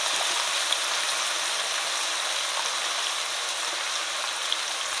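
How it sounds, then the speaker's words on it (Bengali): Potatoes fry in hot oil in a pan, giving a loud, steady, close sizzle that hisses evenly throughout with a few faint pops and no talking. "তো আমি আগে আলুটা লাল করে ভালো করে ভেজে নেব।"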